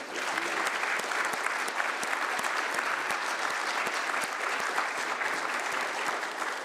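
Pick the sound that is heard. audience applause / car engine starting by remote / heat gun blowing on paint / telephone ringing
audience applause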